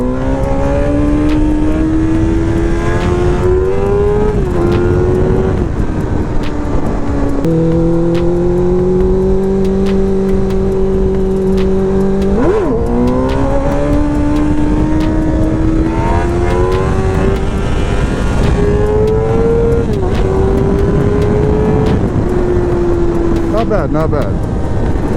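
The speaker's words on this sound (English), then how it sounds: "First wheelie of the day." A revving engine drones loud and continuous through a wheelie, its pitch climbing and dipping as the throttle changes, with wind rush and a voice talking over it.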